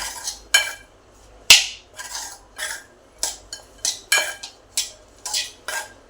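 Butter chaat corn with salt and coriander is mixed with a spoon in a bowl, giving a series of about a dozen sharp clinks and scrapes at an uneven rhythm, close and alone.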